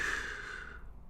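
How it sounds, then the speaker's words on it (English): A man breathing heavily and panting on an old recording: one long, breathy exhale that is faint and fades away, with no speech. "excuse the heavy breathing"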